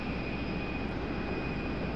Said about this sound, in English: It is making its way out here to the end of the runway.